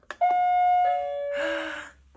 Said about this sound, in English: She left her doorbell.